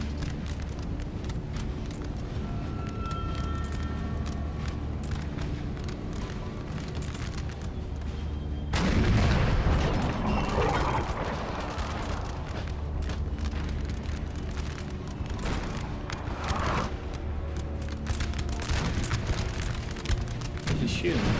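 Musket volleys and artillery in Napoleon: Total War at the Battle of Friedland 1807, with a continuous rumble of distant firing and a sharp boom partway through that is followed by heavier crackling bursts.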